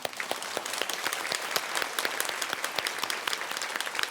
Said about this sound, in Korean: 우리 영광의 박수 주님께 드리겠습니다